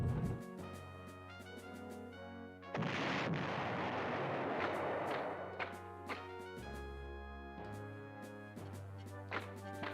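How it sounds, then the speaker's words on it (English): Aircraft strafe enemy artillery in the PlayStation war game Panzer General: a heavy booming blast with a long rumbling roar, then more sharp impacts over a steady low game-music drone. "sometimes the strafing can really wreck up enemy artillery"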